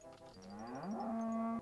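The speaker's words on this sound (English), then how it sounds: "Moo moo moo." Cartoonish cow moo from a Banjo fan video game, a single drawn-out low call that bends upward in pitch and holds steady, heard alone for under two seconds alongside faint chiming tones.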